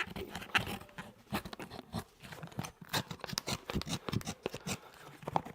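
Knife trimming away excess material while fitting a horseshoe, a quiet, irregular series of crisp cuts and scrapes close by.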